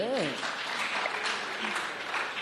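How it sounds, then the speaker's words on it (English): Schoolchildren at Kilimani Primary School in Kenya clap together in a classroom, a soft, continuous patter with a voice briefly heard at the start. "Clap for Kilimani Primary School"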